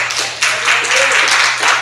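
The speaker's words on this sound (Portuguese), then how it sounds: "E você pode dar uma salva de palmas para ele." A church congregation applauds in a brief burst of dense, bright clapping that swells after a moment and carries on steadily, with a faint voice beneath.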